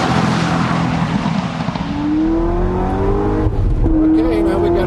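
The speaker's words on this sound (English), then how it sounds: "now we've got quite a bit of acceleration. This is something I'm not used to in a normal vehicle." Corvette ZR1 accelerating hard on a test track, the engine note climbing steadily in pitch as it pulls through a gear change, loud and close from inside the cabin with talk over it.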